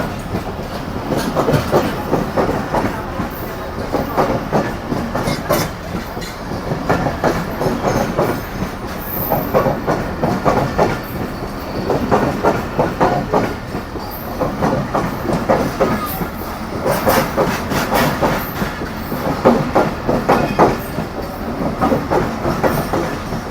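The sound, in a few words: Millat Express train passing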